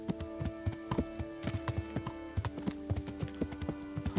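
Steady clip-clop of horse hooves at a riding pace in the medieval video game Kingdom Come: Deliverance, rhythmic regular footfalls close and clear over a faint background of game ambience.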